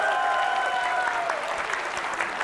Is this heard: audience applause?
yes